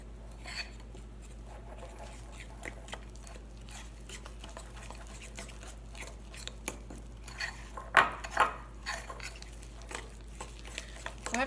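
A spoon stirs and clinks against a mug while vegan buckwheat coffee cake batter is mixed, soft scraping and scattered clinks with a louder burst of knocks near the end, quiet and close.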